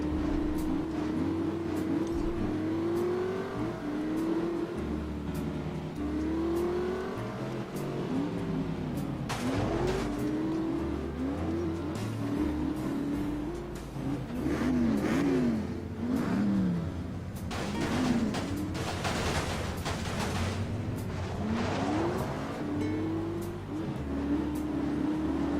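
A worn, battered old car in The Saboteur drives along with its engine droning and revving continuously, rising and falling in pitch, loud and close, with brief gritty bursts.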